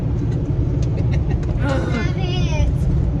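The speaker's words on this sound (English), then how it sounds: "Okay, so your truck is so loud." A loud, constant engine rumble drones throughout, with a person's voice briefly rising above the heavy low-end noise.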